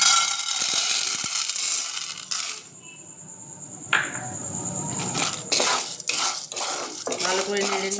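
Corn kernels poured into a pan of hot oil for homemade popcorn, a bright rattling clatter against metal, then a spoon stirring and scraping them around in several loud bursts.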